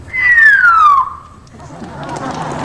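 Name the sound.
voice imitating a falling bomb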